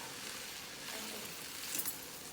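Drumstick (munaga) leaves frying dry and crumbly in a pan, village style, giving a soft steady sizzle with faint stirring scrapes throughout.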